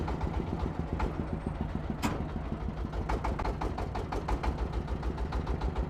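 A bhutbhuti, a makeshift vehicle with its engine mounted under the seat, idles with a steady, rapid low thumping that stays loud and close throughout, with no one speaking.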